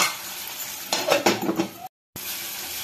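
A metal lid set onto a cooking pot of tomatoes and spiced lentils: a brief clatter and scrape of metal over soft sizzling, then a sharp cut.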